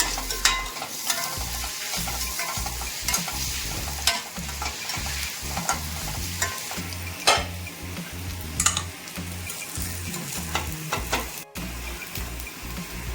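Finely chopped onion and green chillies fry in a pan for a greens stir-fry, with a constant sizzle under repeated scraping stir strokes and light clinks of a spoon against the pan, all close and continuous.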